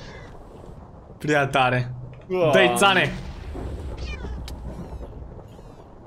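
A Minecraft cat gives two clear, loud meows a moment apart, with people speaking briefly and game noise in the background.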